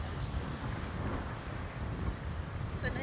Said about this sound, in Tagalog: Lumilipad na ang aking hair kasi mahangin.